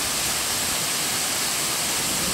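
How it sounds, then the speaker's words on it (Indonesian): Bajuin waterfall pouring steadily in a broad, constant roar of falling water, loud and close with no breaks, no voices heard. "Di sini kalian bisa merasakan dinginnya air terjun Bajuin secara langsung."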